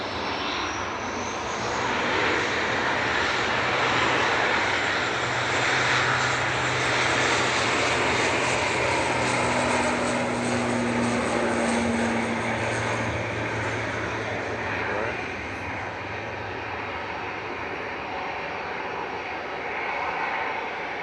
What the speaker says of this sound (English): ATR 72 departing now